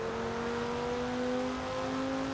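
A limousine's engine drives steadily in the racing game Forza Horizon 4, a constant, close, even drone that holds the same pitch throughout with no talking over it.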